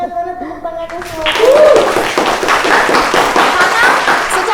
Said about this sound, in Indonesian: Mana tepuk tangannya semua.